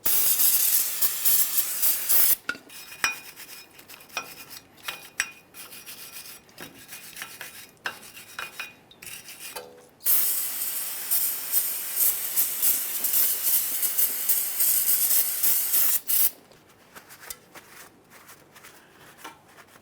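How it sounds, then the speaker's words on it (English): Parts cleaner is sprayed and brushed onto the brake rotor and wheel hub of a 2015-2020 Ford F-150, giving close bursts of hissing spray mixed with harsh scrubbing and rubbing that stop and start, with no talk. "You can use a wire brush and some parts cleaner if necessary."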